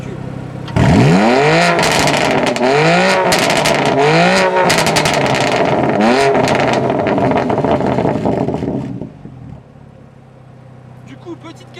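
A tuned, reprogrammed BMW M2 Competition engine revs hard several times past 6000 rpm, each loud rising sweep cutting back before the next, then settling into a lower rumble near the end.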